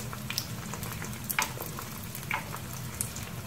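Nems, or spring rolls, fry in a pan with a constant dense sizzle and small crackling pops scattered on top, close and steady throughout.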